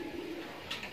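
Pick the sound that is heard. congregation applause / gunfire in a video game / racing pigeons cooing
racing pigeons cooing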